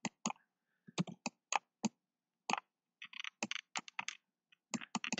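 A header is typed on a computer keyboard in short irregular bursts of crisp, close key clicks separated by brief silences, quiet and alone.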